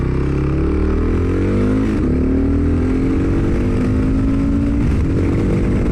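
A 2022 Kawasaki KLR650 single-cylinder motorcycle fitted with an airbox mod, slip-on exhaust and fuel controller accelerates downhill, its loud engine note rising steadily through gear changes with wind rush, recorded from the rider's position.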